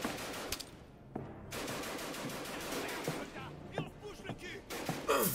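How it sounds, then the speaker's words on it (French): Gunfire crackles through a World War I trench video game, with several sharp bursts and shots over a busy battlefield din, and faint voices in the mix. "regardez, ça tire"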